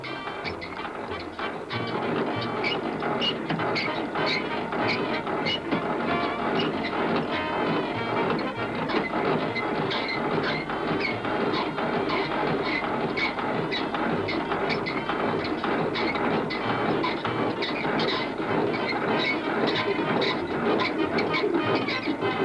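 Trams rolling along street rails, a steady continuous rumble with faint rhythmic clicking, sustained and fairly loud throughout with no voices.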